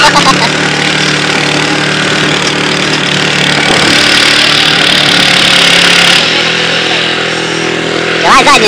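Walk-behind tractor engine running steadily and loud throughout, a continuous mid-pitched motor drone with people talking over it outdoors.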